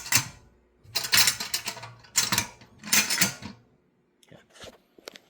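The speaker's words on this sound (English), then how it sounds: "the way this works is it just snaps in place with these clamps" Metal clamps snapping shut on a still lid with a built-in silicone seal, a series of sharp clicking and clattering bursts in quick succession, close up, followed by quieter handling noises.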